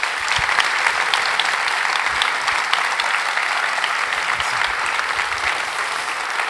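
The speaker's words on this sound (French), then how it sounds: "je vous propose, s'il vous plaît, de faire un tonnerre d'applaudissements pour Monsieur Éric Larchevêque." A conference audience gives a speaker loud, sustained applause, dense and even clapping from a large crowd that fills the whole stretch with no talk over it.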